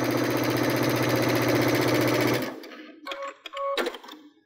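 A Baby Lock sewing machine with digital dual feed runs fast and steady, stitching into fabric seams, then stops abruptly, followed by a few brief mechanical clicks and whirs.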